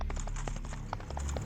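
Horses' hooves clip-clop in a quick, steady rhythm of distinct knocks over a continuous low rumble, as if pulling a cart, with no talking.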